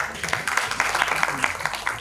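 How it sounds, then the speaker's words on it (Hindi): Scattered, fairly close hand claps from an audience at a Hindi poetry gathering (kavi sammelan) in Ayodhya, a quick irregular patter of several hands over faint background voices. "कम से कम महिलाएं तो महिलाओं की ताली बजाएं।"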